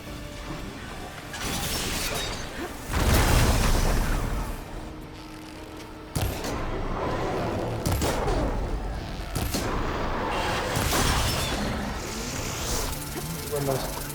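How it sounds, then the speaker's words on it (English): Cannon blasts in the video game Horizon Forbidden West, a series of sharp booming shots with hissing, crashing debris in between, loud bursts spread irregularly across the stretch with game ambience and a voice reacting. "What are those cannons?"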